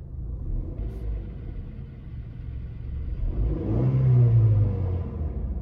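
From inside the closed cabin of a fourth-generation Honda CR-V with a manual transmission, the engine idles as a low, quiet rumble, then swells into a louder, deeper rev before settling back slightly.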